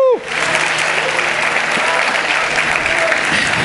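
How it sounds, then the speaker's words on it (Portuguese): A church congregation breaks into loud, sustained applause, a dense wash of clapping that holds steady for several seconds after a brief opening voice. "diga glória a Deus e aplauda ao Senhor mais uma vez"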